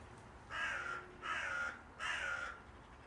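Three loud, harsh caws from a crow, evenly spaced about a second apart, standing out against quiet background hiss.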